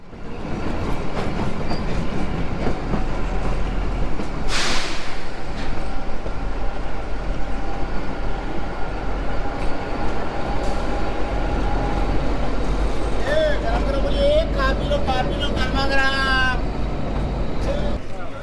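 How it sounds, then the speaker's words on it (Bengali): The Kalka–Shimla toy train, the Shivalik Deluxe Express, running through mountain tunnels toward Barog station, a loud steady rolling rumble with rhythmic clatter, a burst of hiss midway and high squeals near the end, with a voice speaking over it. "রেলগাড়ি তার কুঝিকঝিক শব্দে টানেলের নিঃশব্দতা কাটিয়ে পৌঁছে গেল ঐতিহাসিক পাহাড়ি স্টেশন বারগে"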